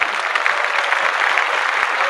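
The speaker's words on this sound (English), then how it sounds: "Round of applause for that." Close, steady clapping from a small crowd at a live streamed meetup, dense and even through the short burst with no pause.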